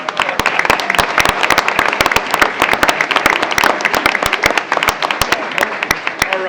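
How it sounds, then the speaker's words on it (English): Applause for school athletes at a school board meeting: a roomful of people clapping briskly and loudly in a dense, steady patter that lasts throughout, with no talk over it. "round of applause once again for all of our athletes"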